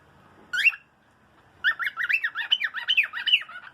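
A pet bird lets out a short, loud squawk, falls quiet, then breaks into a rapid run of harsh squawks and chirps close to the microphone, with no talking.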